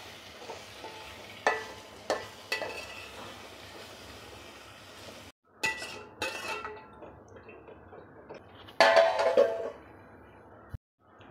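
Onions hit hot oil for a potato kurma and sizzle softly under light stirring scrapes and clinks. A louder burst of frying rises near the end, with no voices.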